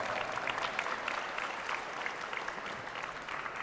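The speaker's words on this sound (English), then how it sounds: "let's give them a round of applause" Audience applause at a Creative Commons launch event in Qatar, steady dense clapping from a crowd throughout, heard at moderate distance without talk.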